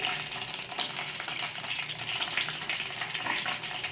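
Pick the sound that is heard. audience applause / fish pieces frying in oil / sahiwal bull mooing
fish pieces frying in oil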